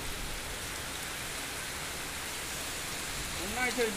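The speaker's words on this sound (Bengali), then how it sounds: "কি হারে বৃষ্টি হচ্ছে একটু দেখুন।" Steady, dense rain hiss fills the space evenly, with a voice briefly speaking near the end.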